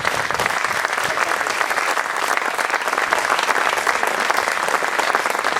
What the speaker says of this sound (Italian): lasciamo prendere questo meritato applauso.